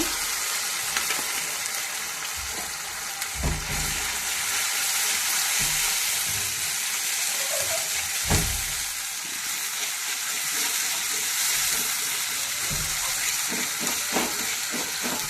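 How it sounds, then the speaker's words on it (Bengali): Spinach and spices frying in a pan, a steady loud sizzle with occasional soft stirring knocks and pops throughout, no voices over it. "মশলাটা ভালো করে কষিয়ে নিচ্ছি।"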